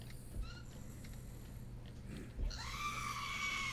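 Creatures in a video game let out distant wails, then a louder, sustained high screech rises near the end over a low background hum.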